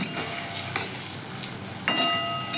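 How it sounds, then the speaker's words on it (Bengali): Boiled flat beans fried with salt in a pan, a loud close sizzle with scraping spatula strokes stirring through it at irregular intervals. "পুরো শিমগুলোই দিয়ে দিয়েছি সেদ্ধ হওয়া শিম তার মধ্যে নুন দিয়েছি দিয়ে ভালো করে ভেজে নেওয়া হচ্ছে"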